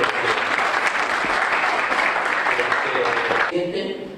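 Applause from a conference audience at an industry talk rings out as a dense, continuous patter of many hands, loud and steady before tapering off in the final moment.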